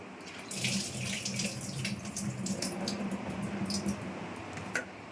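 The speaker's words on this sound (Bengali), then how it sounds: "দেখুন আমার ছোলার ডালটা ভালো করে ধোয়া হয়ে গেল" Chana dal is rinsed under a running kitchen tap, water pouring steadily into the sink with soft squishing and splashing as the lentils are stirred, fairly quiet and close.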